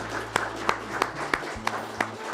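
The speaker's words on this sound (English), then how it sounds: "So one big last round of applause for our authors and their guests." Scattered hands clapping at an author recognition reception, a few sparse, regularly spaced claps over a low hum rather than full crowd applause.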